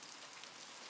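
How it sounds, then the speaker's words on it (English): Heavy rain pours during a Louisiana thunderstorm, a dense, steady hiss of drops on surfaces with no pauses, close and even throughout the short stretch. "we still got some really heavy rain"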